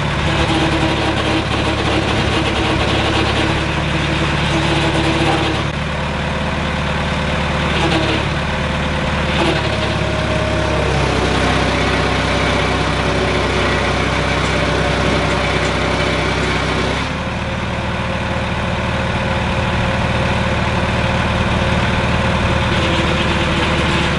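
An old JCB loader's diesel engine idles loudly and close, a steady, rough, throbbing rumble with slight shifts in pitch and no voices, running continuously throughout.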